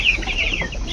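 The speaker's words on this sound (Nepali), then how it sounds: "यसमा चाहिँ 2टा पोथी एउटा भाले रहेछ।" Backyard chickens, two hens and a rooster, clucking close by in a short, lively burst of overlapping calls.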